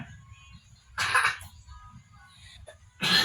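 Two short, harsh coughs about two seconds apart, close by, against a low background hum.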